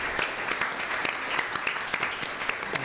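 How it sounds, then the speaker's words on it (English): Brief applause from an audience at a humanities panel at Columbia's Maison Française, a moderate burst of many hands clapping with some individually distinct claps standing out, heard alone without talk. "maybe this is a cue for applause"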